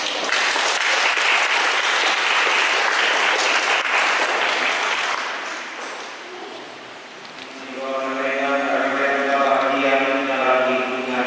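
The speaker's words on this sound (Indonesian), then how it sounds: "Mari kita beri tepuk tangan untuk mereka." A crowd at a Catholic wedding blessing claps loudly and steadily for the newly married couple. The applause fades after about six seconds, and a voice then begins speaking.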